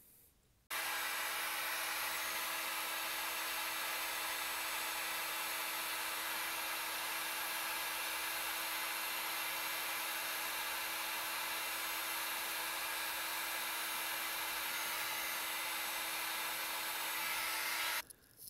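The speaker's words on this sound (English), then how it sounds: "I'm going to go ahead and put my heat gun on this, and that'll solder them together" A heat gun blows a steady, loud, even hiss of hot air for nearly the whole stretch, shrinking heat-shrink wrap over wires during a 2011 Toyota Corolla condenser sensor and noise filter repair, starting and stopping abruptly with no talk.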